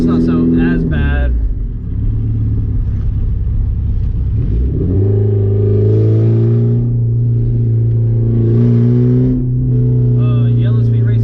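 A straight-piped Porsche 944 with a quick shift kit drives and changes gear, its loud raw exhaust droning and climbing in pitch, dipping briefly at each shift, with someone talking over the engine.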